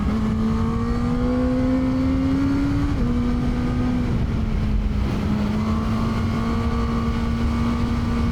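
Four-cylinder engine of a QJ Motor SRK 921 motorcycle making 130 horsepower, heard while riding on an open road: a steady, loud droning hum with shifting pitch as revs change, under constant wind rush.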